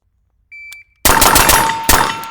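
An AR-15 rifle with a carry handle fires a rapid string of loud, sharp shots close by, following a shot timer's electronic beep.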